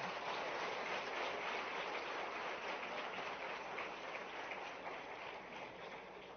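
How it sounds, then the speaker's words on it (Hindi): An audience at a sports festival opening applauds loudly, a dense, continuous wash of many hands clapping that holds steady and then gradually tapers off toward the end. "जरा जोरदार ताली दोनों के लिए बजा दो।"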